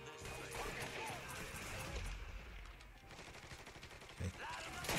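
Rapid gunfire bursts from the Mafia 3 video game crackle through a dense, loud mix of shots and impacts, with a sharp bang near the end and a voice briefly heard underneath.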